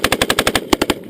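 A PKM machine gun fires a rapid burst of about eight rounds, loud and close, the sharp reports coming in a tight even rhythm with a brief gap before the last few.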